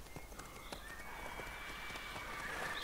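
A horse galloping in the video game Witcher 3, quick hoofbeats with a neigh, fairly faint under a game soundtrack.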